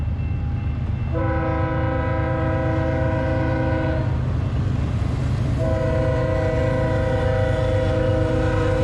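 A train passes close by a city park campground with full hookups in Texas, its horn sounding in two long, loud blasts over a steady rolling rumble of the cars.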